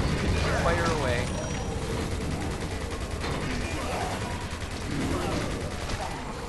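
Continuous rapid gunfire with unlimited ammo and no reloading rolls on through a video game firefight, dense and loud under a talking voice.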